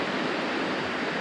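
High, fast river water in Maine rushing steadily after a month of rain, a dense continuous roar close by with no pauses and no voices.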